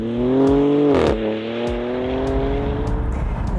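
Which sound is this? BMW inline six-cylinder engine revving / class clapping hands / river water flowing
BMW inline six-cylinder engine revving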